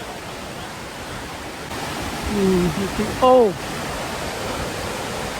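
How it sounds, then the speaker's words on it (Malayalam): Hebbe Falls waterfall in Chikmagalur makes a steady, even rush of falling water like dense hiss, constant throughout, while a voice exclaims briefly and other voices chatter faintly over it. "നമ്മൾ ഏകദേശം വാട്ടർഫോൾസിൻ്റെ അടുത്ത് എത്താറായിട്ടുണ്ട്"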